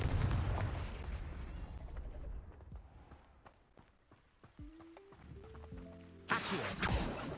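A Confringo blasting spell bursts in Hogwarts Legacy with a heavy rumbling explosion that fades into scattered crackles and tones, then a second loud blast hits sharply near the end.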